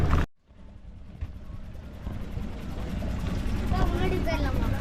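A private motorboat at Poovar Island starts up after a brief silence, its engine rumble building steadily in loudness beneath indistinct voices.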